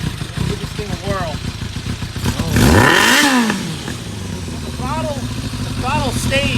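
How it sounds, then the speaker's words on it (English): A 1999 Kawasaki ZRX1100 pulls away up a street, its engine rising into a loud rev that swells and then fades as the bike rides off, with people talking nearby throughout. "It's a 99 ZRX 1100."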